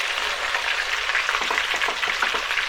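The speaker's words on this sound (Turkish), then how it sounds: "etlerimizi ekliyoruz. Hemen etlerin dışını mühürlemek için bu şekilde hızlı hızlı karıştırıyoruz." Pieces of marinated beef hiss loudly in a hot pan as they are stirred quickly to sear, making a dense, continuous sizzle with crackling that carries evenly throughout.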